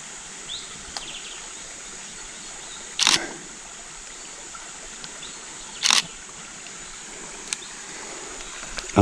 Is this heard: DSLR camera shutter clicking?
yes